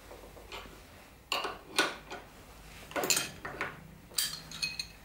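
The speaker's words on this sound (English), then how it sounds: "And the bearing comes out." A Hambini removal tool extracting a seized BB30/PF30 bottom bracket bearing, a series of sharp metallic clicks and ticks, close and fairly crisp, arriving in uneven bursts, no talking.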